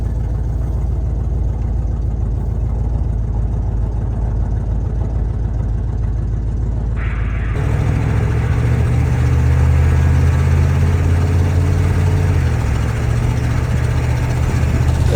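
Engine of an old GMC Caballero that sat over twenty years, running continuously on a test drive, a steady low rumble that grows louder and rougher midway as it pulls away and accelerates through the gears.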